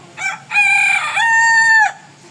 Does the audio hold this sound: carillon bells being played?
no